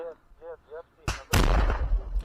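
A grenade blast in trench combat, preceded by a voice shouting, then a sharp loud crack followed by a heavier booming explosion with rumbling debris close by.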